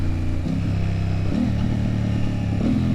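An Aprilia Tuono fitted with lightweight 16/45 sprockets accelerates during a street ride, its engine a steady, close throbbing drone with rising and shifting pitch.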